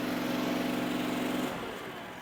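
Powerease R740D portable generator engine running at light load, a steady loud hum with a strong low drone that eases off and softens near the end.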